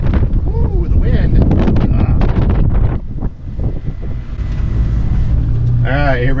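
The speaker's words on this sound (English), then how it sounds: "Ooh, the wind." Wind buffets the microphone outdoors beside a vehicle loaded for a road trip, a loud steady rumble that dominates the first half and carries on more softly afterward, with a voice speaking briefly near the end.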